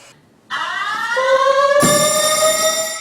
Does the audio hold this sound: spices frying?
no